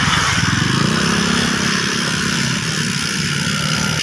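Several motorcycle engines drone loudly and continuously nearby as a group of bikers rides past, the rumble steady throughout.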